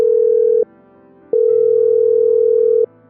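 A phone busy tone sounds close and loud: two long steady beeps separated by a short silent gap, with no talking.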